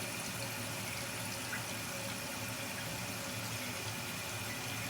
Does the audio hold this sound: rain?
no